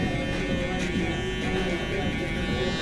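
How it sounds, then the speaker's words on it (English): Electric shaver used to tap down a harsh line on a young client's burst taper fade, giving a steady, close, continuous buzz that holds at an even level throughout. "you could always just flip your shaver over and just tap going down"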